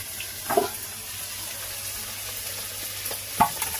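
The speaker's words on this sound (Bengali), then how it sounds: "এদিকে চিংড়ি মাছটা হালকা করে ভাজা হচ্ছে" Shrimp frying lightly in a pan, a quiet steady sizzle with a couple of short clinks or splashes standing out; no voices.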